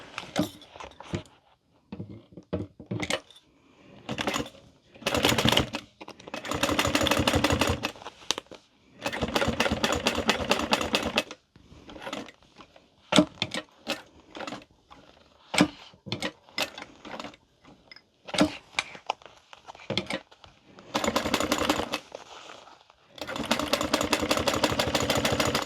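A sewing machine topstitching a wallet, running in repeated bursts of rapid mechanical chatter separated by short pauses, close and clear over about twenty-five seconds.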